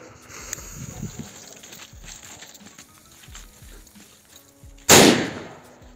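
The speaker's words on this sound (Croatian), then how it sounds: "Sljedeća petarda koju imamo je eksploziv" A powerful firecracker called Eksploziv 1, wedged beside a hair dryer, goes off in a single loud, close blast with a decaying tail, preceded by soft handling sounds.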